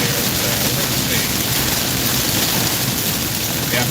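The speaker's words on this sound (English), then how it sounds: "we're getting this kind of heavy rain on top" Heavy rain pouring down on a mountain storm chase, a dense, loud, steady hiss of falling water with no breaks, heard close and alone.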